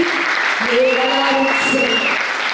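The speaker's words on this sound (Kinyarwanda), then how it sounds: "Reka tubakire neza family, tubakire neza Imana, tubakire n'amashyi menshi" A church congregation applauds to welcome a couple, steady clapping filling the whole moment, loud and close, with voices and music carrying over it.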